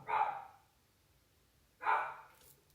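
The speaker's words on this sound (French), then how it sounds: "comme ce chien qui est en train de nous déranger" A dog barks twice, about two seconds apart, each a short, moderately faint bark over a quiet background, with no one talking.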